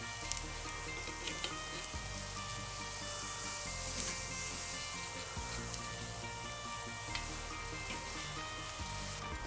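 Kangaroo sirloin steak sizzling steadily on a hot Weber barbecue grill as it is flipped, a close, continuous frying hiss with small crackles and pops and no talking.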